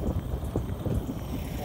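Wind gusts buffet the microphone outdoors with a rumbling, low roar while someone plays with Lego minifigures nearby, and voices are heard under it.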